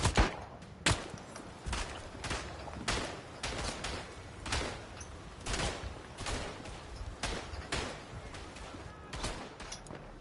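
Luger pistol gunshots in a Western Front video game, a long series of sharp, irregularly spaced shots at moderate loudness over battlefield background noise.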